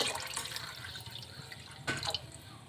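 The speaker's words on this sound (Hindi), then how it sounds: "हम इसमें आधा गिलास पानी का और ऐड करेंगे।" Water splashes and trickles steadily into a pot of mixed dal at close range, with a brief louder gush near the end.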